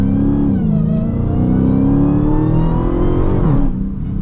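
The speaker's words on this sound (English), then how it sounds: "you guys can hear those downshifts. Downshifts are just so aggressive." A powerful supercharged V8 in a Dodge Challenger Hellcat Redeye roars as the car accelerates hard, the pitch climbing, then dropping sharply with a quick downshift near the end.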